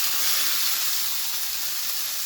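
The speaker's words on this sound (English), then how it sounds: "So I'm just going to add my shrimp in." Shrimp hit a hot pan and sizzle steadily, a loud, close, continuous hiss of frying with no pauses or talk, for a honey garlic shrimp dish.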